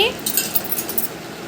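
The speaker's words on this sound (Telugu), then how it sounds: "అన్నీ వేసి బాగా కలియబెట్టుకోవాలండి గరిటతోటి" A metal ladle stirs prawn curry in a cooking pot, giving light clinking and scraping against the metal and a soft wet churning. The close, steady sound lasts only a moment.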